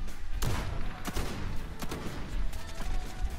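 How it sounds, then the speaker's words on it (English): Bursts of gunfire in Call of Duty: Modern Warfare, with several sharp cracks spaced about half a second apart over a dense, rumbling battle backdrop. "Was my teammate just shooting at me?"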